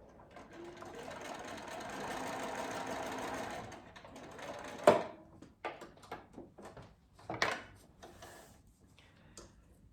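A sewing machine stitching a paper-pieced patchwork seam, a steady whirring run for several seconds, followed by scattered clicks and clunks as the fabric is handled.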